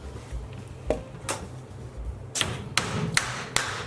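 Nail hammered into a wooden spice rack: a few sharp, separate strikes, sparse at first and then several louder blows close together near the end, heard close with no talking.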